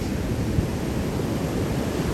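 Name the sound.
ocean waves at the beach in Mexico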